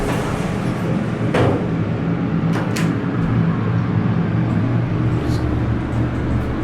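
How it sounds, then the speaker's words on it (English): The motor of an original 1985 Hotchkiss hydraulic elevator in Tucson drones as the car rises: a steady, loud, low hum that never lets up, with a couple of faint knocks along the way. "Let's listen to the motor as we go up."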